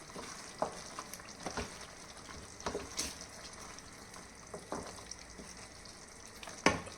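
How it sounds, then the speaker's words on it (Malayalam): Cashew chicken frying in a pan hisses softly while a utensil stirs it, with scattered scrapes and clinks and a sharper knock near the end, all without talk. "നല്ലോണം ഇളക്കുക."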